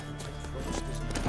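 Horse hooves clip-clop in The Witcher 3 on a steady ride, a continuous near trot with a low rumble beneath and no talking.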